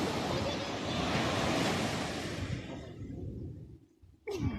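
Sea waves wash onto the shore at Alexandria in a broad, steady roar with wind, then ebb toward near quiet before a brief rustle at the end.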